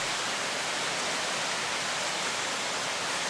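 Assunpink Creek in flood at a record high after Hurricane Irene, a loud, unbroken roar of rushing water filling the whole clip with no voices.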